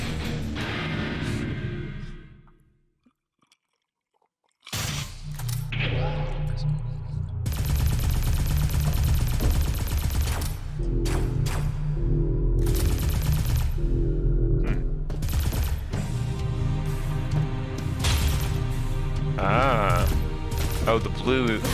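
Rapid bursts of gunfire from a new gun in the PC video game Valfris, loud and dense, layered over game music and effects after a brief quiet pause near the start.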